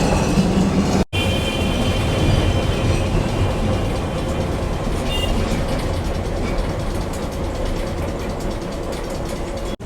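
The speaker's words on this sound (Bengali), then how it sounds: "আর আমাদের ট্রামটা কিন্তু এখন ডান দিকে কিন্তু টার্ন নিচ্ছে" A Kolkata tram runs between Shyambazar and Esplanade, a steady loud rumble of wheels on rails with rattling, ratcheting carriage noise throughout, broken by one brief dropout near the start.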